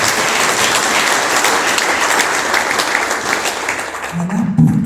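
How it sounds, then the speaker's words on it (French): A conference audience at a World Tuberculosis Day event applauds three presenters, dense steady clapping filling the room throughout before it begins to thin out at the very end. "Est-ce qu'on peut encore une fois applaudir déjà les trois présentateurs?"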